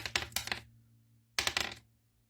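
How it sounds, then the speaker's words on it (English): Twenty dice rolled for a tabletop wargame clatter in two quick bursts of rattling, each fading out, with a short silence between them and no talking. "roll a number of dice equal to the number of models. So that's 20 models, 20 dice"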